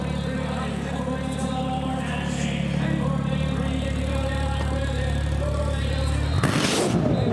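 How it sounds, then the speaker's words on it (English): A 2015 Ferrari LaFerrari at a Barrett-Jackson Scottsdale auction holds a loud, steady engine drone rich in harmonics, then gives a sudden sharp burst as the revs flare near the end. "Ask the driver to give it a little rev."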